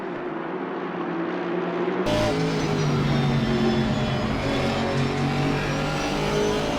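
Aston Martin V8 Vantage race cars in a simracing game roar steadily, loud and close. The engine note jumps abruptly partway through and stays strong to the end.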